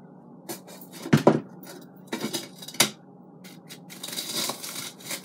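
A knife saws through a crispy, toasty brown grilled cheese sandwich made in an iKich 6-quart air fryer, with several crunchy, scraping cuts and sharp bursts separated by brief quiet gaps, close up.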